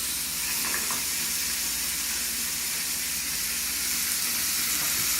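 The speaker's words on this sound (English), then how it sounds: "Now, I'm going to put my vegetables in." Vegetables hit a hot pan alongside browning chicken thighs, giving a loud, steady broadband sizzle that holds evenly from start to finish with no talking.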